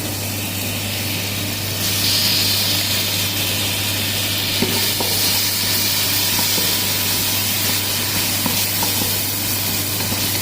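Ginger garlic paste sizzles steadily in a pot with sautéed onions for beef biryani, a loud continuous hiss close up with a few faint clinks, no talking.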